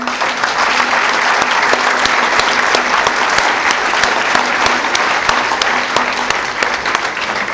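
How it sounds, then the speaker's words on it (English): Dense, steady audience applause fills a hall after a presentation at an inspirational talk on spirituality and a healthy mind. It stays loud and even, with no pause, for the whole stretch. "give him a big round of applause"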